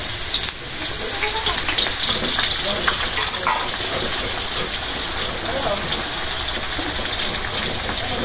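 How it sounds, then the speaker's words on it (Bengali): Sliced onions drop into hot oil to fry for beresta, bursting into a loud, dense, rain-like sizzle that settles into steady crackling frying. "তেল গরম হয়ে গেছে, পেঁয়াজটা বেরেস্তা করার জন্য"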